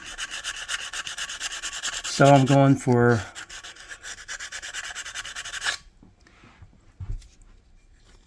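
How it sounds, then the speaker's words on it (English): Two short bursts of rough, rhythmic rubbing as a sandpaper roll is worked by hand on metal, shaping a cylinder head exhaust port, between stretches of quiet talking. "Piece of sandpaper, by the way. It's one of my sanding rolls."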